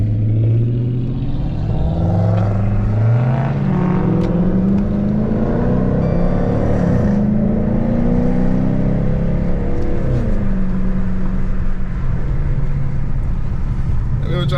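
Two Dodge Charger R/T cars driving through a city at night, a loud steady engine drone with rising and falling revs as the cars accelerate, with a voice talking over parts of it.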